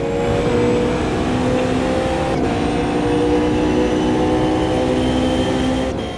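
GT4 race cars in the Automobilista 2 racing sim, a continuous loud engine drone with sustained revving and a steady tone over several seconds, no voices.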